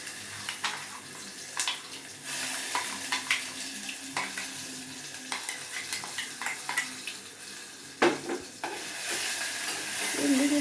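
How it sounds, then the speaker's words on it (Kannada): Tempering poured into ground raw mango gojju, a crackling sizzle with repeated stirring scrapes and clinks from a spoon in the pot, close-up and continuous, swelling louder near the end. "ಒಗ್ಗರಣೆ."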